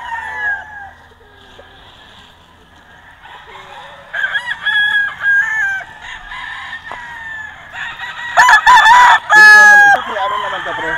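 Several loud crows from a White Kelso gamecock crossed with Super Sweater on a gamefarm ring out close by, strongest near the end.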